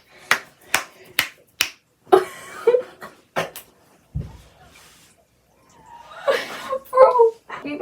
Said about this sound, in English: me snapping my fingers